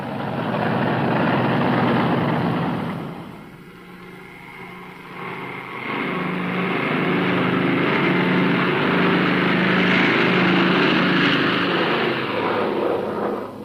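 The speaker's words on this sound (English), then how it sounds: "This was the takeoff for one of the greatest mass flights in history." B-29 bomber engines roar during takeoff for a 1944 mass flight, a loud continuous droning of multiple propeller engines that dips briefly, then swells back to a steady heavy rumble.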